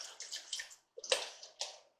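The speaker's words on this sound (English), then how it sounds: "we're going to add in about a cup of water" A cup of water poured into a pot of crawfish étouffée, giving two short splashy bursts of pouring and sloshing with a brief gap between, close and fairly quiet.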